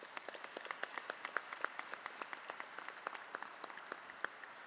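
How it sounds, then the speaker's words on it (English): Audience applause at the Davis Aerospace & Maritime High School 2024 commencement: many hands clapping in a steady, fairly faint wash with crisp individual claps standing out, no voices over it. "just another round of applause for Drew and all that you've done, my friend"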